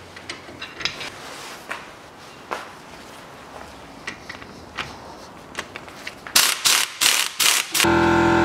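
Ratchet wrench loosening the ball joint nut on a 2011 Chevrolet Epica during front lower control arm bushing work, scattered metallic clicks and clanks, then a loud run of rapid ratcheting strokes near the end.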